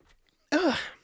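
A single sharp sneeze bursts out after a near-silent pause, loud and close, with a brief voiced tail.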